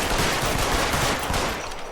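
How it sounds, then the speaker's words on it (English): Rapid loud gunshots in the L.A. Noire video game, a dense continuous volley of fire that fades slightly at the end, with no talking. "How many times do I have to shoot him?"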